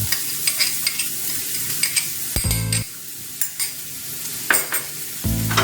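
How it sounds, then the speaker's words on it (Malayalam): Chopped garlic fries in a pan for rice gnocchi pasta, a close continuous sizzle broken by repeated scraping stirs and a few sharp clinks of a utensil against the pan. "ഇനി അതിനകത്തേക്ക് ചോപ്പ് ചെയ്ത ഗാർലിക്"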